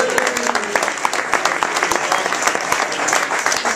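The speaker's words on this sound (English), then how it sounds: "So, a quick round of applause for John." Audience applause for John at a retirement night gathering, a steady crackle of many clapping hands lasting several seconds, with faint voices mixed underneath.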